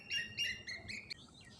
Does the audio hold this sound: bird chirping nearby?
yes